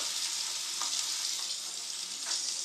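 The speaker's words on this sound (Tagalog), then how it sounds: "ipa-fried ko kunti siya sa mantika na may butter" Breaded food fries in oil with butter, giving a steady, even hiss of sizzling with a few faint pops, with no voices heard.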